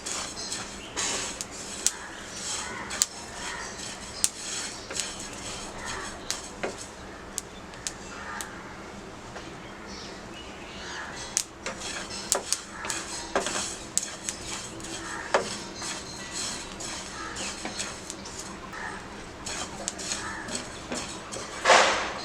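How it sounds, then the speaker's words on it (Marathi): Sesame seeds roasting over a low gas flame in a pan for chutney, with steady clinking and scraping of a spoon against the metal and faint crackle, moderately loud and without talk. "तीळ आपल्याला चांगले भाजून घ्यायचे आहे।"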